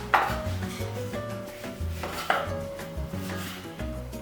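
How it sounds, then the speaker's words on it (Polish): Child chopping fruit with a knife on a board for crocodile pancake decorations, giving a few distinct, close knife thuds spaced irregularly, with soft handling noises between them. "Chcesz kroić?"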